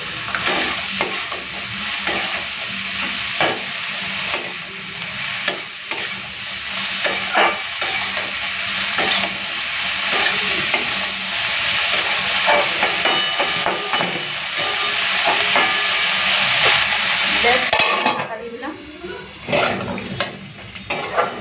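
Snake gourd fries in a wok, sizzling steadily while a metal spatula scrapes and knocks against the pan in repeated strokes, close and continuous for about twenty seconds.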